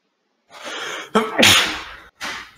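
One close, sharp sneeze with a breathy intake leading into the burst, followed moments later by a short trailing exhalation.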